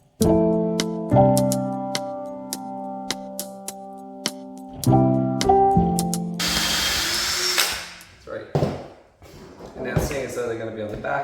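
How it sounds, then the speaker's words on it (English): A power drill pre-drills holes in a mobile DIY workbench frame, whining loudly up to speed in several close bursts, with a rougher grinding stretch as the bit bites, then clattering handling noises afterward. "Now what I need to do, first of all, is to pre-drill."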